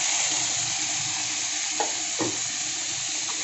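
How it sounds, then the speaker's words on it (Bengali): Spices fry in hot mustard oil with panch phoron, producing a dense, even sizzle that stays close and constant, with a couple of soft stirring scrapes and no voices. "এই মশলাগুলোকে একসাথে খুব সুন্দর করে একটু কষিয়ে নেব, ভেজে নেব"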